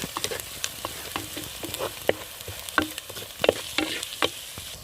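Ginger sizzling in hot oil in a pan while being stirred and mixed, a soft crackling bed broken by irregular sharp pops and spatula scrapes, close and moderately quiet.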